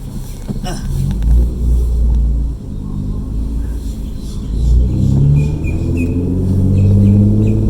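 A Nissan Altima Coupe 3.5 SE accelerates, its engine rumbling and rising in pitch as it pulls, with a brief dip partway through and then swelling again, loud and close from inside the car.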